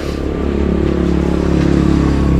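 A motorcycle engine drones loudly and steadily at close range in the Philippines, a constant rumbling idle with slight rattling and no voices.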